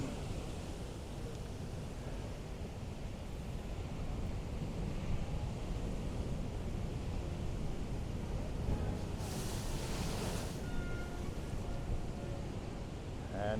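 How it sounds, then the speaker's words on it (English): Ocean waves surge and wash around Thor's Well on the rocky Oregon coast, a steady broadband roar of surf mixed with wind buffeting the microphone, with a brief brighter splash near the end. "So there's a few other waves that are coming here pretty soon"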